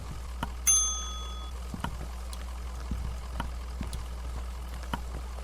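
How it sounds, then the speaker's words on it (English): In the Kentucky Route Zero video game, a bright bell rings once with a clear ringing tone that fades within a second, followed by sparse soft clicks and knocks over a low steady hum. "We'll ring the bell."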